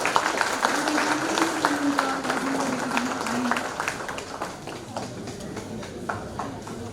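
An audience at a formal government ceremony gives guests a sustained round of clapping that stays steady and moderately loud throughout, with a voice talking over the applause.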